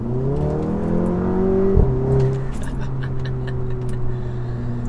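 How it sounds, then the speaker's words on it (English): An Audi A3/S3 with aftermarket charge pipes revs from inside the cabin, the engine note climbing and settling steadily with a brief sharp knock midway, close and continuous. "you can kind of notice just rolling into the throttle just a little bit more responsive as it was before on the stock pipes"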